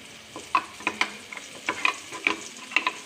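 Ground spice paste with coriander, turmeric and chilli powder fries in hot oil for sardine curry, a soft steady sizzle punctuated by sharp clinks and scrapes of stirring, close up with no speech.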